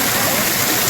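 River water at Kodiveri near Gobichettipalayam rushes steadily in a loud, close, unbroken broadband wash, like a small waterfall or fast stream, with no talk over it.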